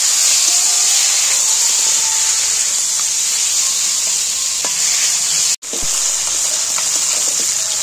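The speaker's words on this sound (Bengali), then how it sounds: "এটা হলদি দিয়ে তেলের মধ্যে একে নাড়াচাড়া করবো।" Chicken skin fries in a little oil with turmeric, giving a loud, hissing sizzle that holds steady while it is stirred, with a brief dropout in the middle before the sizzle resumes.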